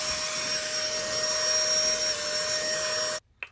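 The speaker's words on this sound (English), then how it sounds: "And now it's time to use the blower and clean it up." A leaf blower clearing garden rows while fall planting, with a steady loud whine and roar held close for about three seconds before it cuts off abruptly.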